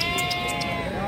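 Tatar-breed sheep bleating in a busy livestock market in Beylagan, several repeated short bleats over steady crowd noise and voices.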